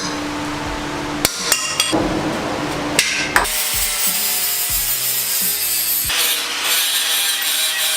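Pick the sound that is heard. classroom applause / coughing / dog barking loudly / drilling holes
drilling holes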